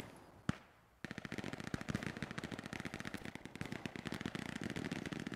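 Machine gun fire in Hell Let Loose: a single sharp shot, then a long unbroken stream of rapid automatic fire at a steady rhythm, moderately distant.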